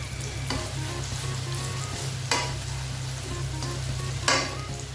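Shallots and garlic stir-fry in a pan with a constant sizzle, broken by three sharp scraping clatters of a utensil stirring, close and with no voices.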